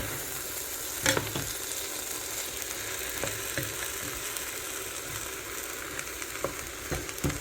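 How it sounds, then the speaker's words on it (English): Ingredients stirred in a pot for split pea soup, giving a steady close sizzling hiss broken by a few scraping clinks of the spoon, with no talk. "Now let's stir this in before we add our seasonings."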